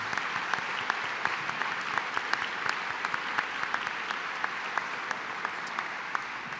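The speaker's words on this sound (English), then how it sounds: "One more round of applause for the Reynolds Foundation" A gala audience applauds the Reynolds Foundation at the Columns Society Gala, a steady, sustained round of many hands clapping that fills the hall evenly from start to finish.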